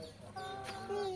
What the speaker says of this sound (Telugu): కోళ్ళు కోళ్ళు